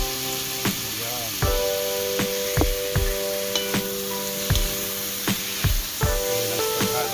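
Fish frying with tomatoes in a hot pan, a steady loud sizzle with repeated scraping and clinking strokes of a utensil as the pieces are stirred, no talking.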